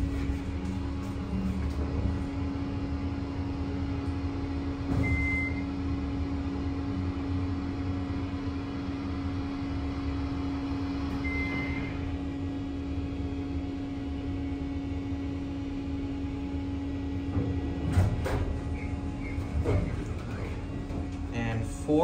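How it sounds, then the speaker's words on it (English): An Otis Series 1 hydraulic elevator at a bowling alley runs with a steady low mechanical hum and faint whine throughout, a brief clunk near the end, with people talking quietly over it. "Pretty basic elevator."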